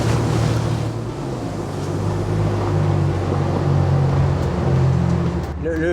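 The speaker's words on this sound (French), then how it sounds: "Le son, l'échappement est d'origine en fait." A Plymouth Prowler hot rod on its stock, unmodified stainless steel exhaust: a steady, loud engine drone with low rumbling tones throughout and a brief rise near the end.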